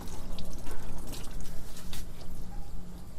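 Water splashes and runs over the top of a 4-gallon lawn sprayer tank outdoors as it is rinsed off. It is a loud, uneven splashing with a low hum underneath, close to the microphone.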